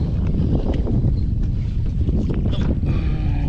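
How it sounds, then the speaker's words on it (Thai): Strong wind roars and buffets the microphone continuously on open water from a fishing boat in the evening at Ban Tak, Thailand, with a low rumbling drone beneath and no voices. "ลมก็แรงทุกคน"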